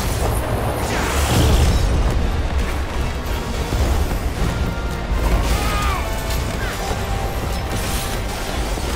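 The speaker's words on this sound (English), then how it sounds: "It's exploding." A booming explosion in Final Fantasy XVI bursts out early, followed by crashing, rumbling game effects that stay loud and dense through the rest of the stretch.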